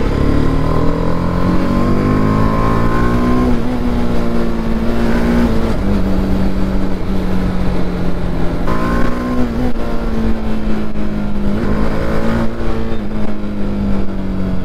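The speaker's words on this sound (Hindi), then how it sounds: "थ्रॉटल दे रहे हैं बेफिजूल का।" A motor vehicle riding alongside on the road blips its throttle repeatedly, its engine note climbing and falling in loud, close surges over a constant roar of travel.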